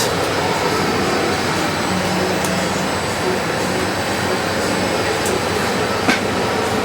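Steady, loud broadband roar of machinery in the engine room of a 240 ft superyacht, a constant mechanical drone with no variation and no speech.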